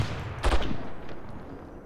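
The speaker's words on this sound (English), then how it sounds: "Why is he shooting?" Gunfire in the America's Army Proving Grounds video game: a short, muffled burst of shots crackles once near the middle, then fades under a low background rumble.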